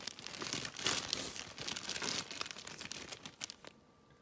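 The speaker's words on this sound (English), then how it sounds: "But I am struggling to open up the bag." A plastic bag crinkles and rustles close by as someone struggles to pull it open, with irregular crackling bursts that stop near the end.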